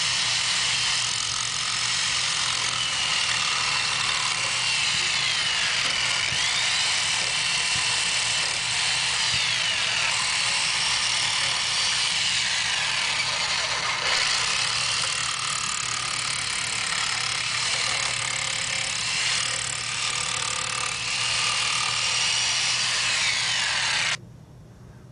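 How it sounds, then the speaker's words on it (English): A jigsaw cuts out an Osage orange wooden boomerang shape with a continuous loud, rasping mechanical buzz that holds steady for about 24 seconds before stopping, with no voices. "Now I'm using the jigsaw and cutting out the shape of the boomerang."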